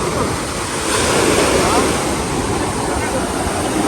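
Sea waves at Arugam Bay surge and break in a broad, loud roar that swells and recedes, with wind buffeting the microphone and a voice speaking at times.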